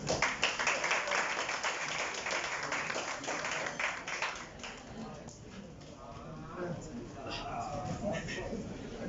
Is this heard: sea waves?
no